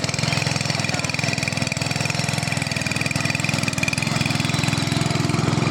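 A mini power tiller ploughs a farm field, its small engine chugging steadily and loudly close by with an unbroken, rapid putter and no pauses.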